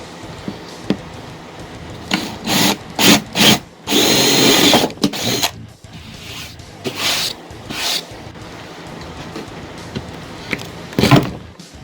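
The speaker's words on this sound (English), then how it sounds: "then cut it out with the scroll saw." A scroll saw cutting wood for a cornhole game buzzes in several short bursts, then one longer cut, loud and close, with pauses and light handling noise between.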